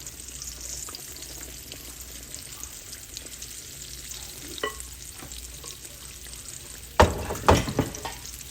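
Apple fritter batter bubbles and sizzles as it deep fries in hot oil, a steady close crackle with a few louder splashy bursts near the end.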